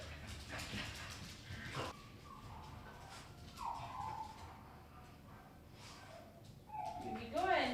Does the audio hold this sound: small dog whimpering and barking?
yes